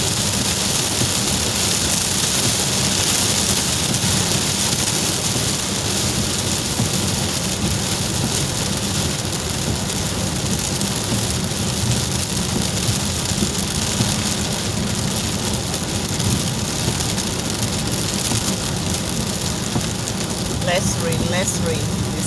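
Torrential rain pounds on a car while driving, a loud, dense, constant roar with engine and road noise beneath, steady for the whole stretch.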